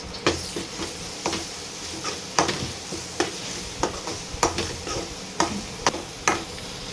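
Ginger garlic paste fries in a pan while a utensil stirs it, giving a soft steady sizzle broken by regular sharp scraping clicks against the pan, close up with no talk.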